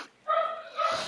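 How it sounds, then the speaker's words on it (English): A pet dog barks indoors in two short bursts close by, a sharp yelp then a second bark after a brief pause, with no talking over it. "Sorry if you can hear my dog barking,"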